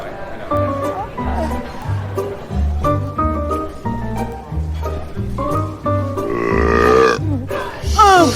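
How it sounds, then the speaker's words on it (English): A Burping Grandma toy character lets out a run of loud, close burps in a bouncy repeating pattern, with voices talking and chattering alongside them. "this is Burping Grandma."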